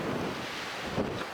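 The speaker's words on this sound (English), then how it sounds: "You can hear that wind whipping up a little bit once we get up here on the exposed ridge line." Steady wind buffeting the microphone on an exposed mountain ridge line along the Blue Ridge Parkway near Blowing Rock, a continuous loud rushing roar with slight gusts and no talking.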